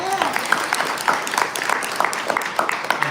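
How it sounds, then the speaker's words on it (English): An audience applauds commissioners with a burst of scattered clapping. A voice talks over the applause. "For everybody, give them a round of applause"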